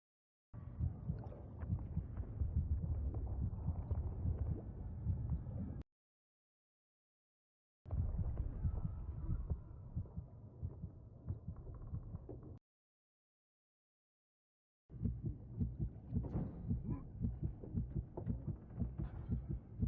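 A heartbeat sound effect from the TV drama Black Sails throbs low and steady in three separate stretches of several seconds each, broken by short silent gaps, with a muffled rhythmic pulse and no speech.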